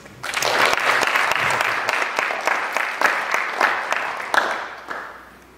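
An award ceremony audience applauds steadily, dense clapping sustained throughout at fairly loud, even level, with a few sharper individual claps standing out.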